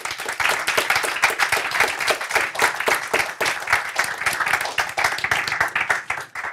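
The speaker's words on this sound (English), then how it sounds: "please give everyone a round of applause." Audience at a CCUS event gives a steady, dense round of applause, many hands clapping close and even throughout.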